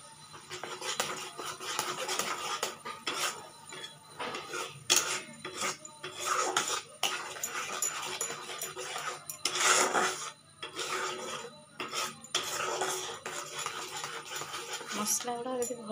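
A spoon scrapes and stirs spice masala frying in oil in a pan for a village-style prawn and potato curry, with repeated rasping strokes in bursts, close and fairly loud, and no talking.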